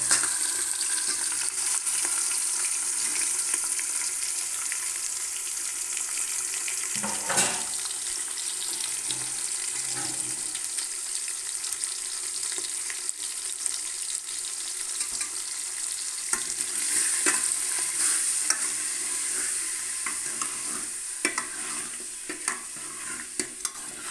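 Ground mutton, half a kilo, frying in a pan with mustard seeds and curry leaves gives a steady, close sizzle that runs continuously, broken now and then by stirring scrapes.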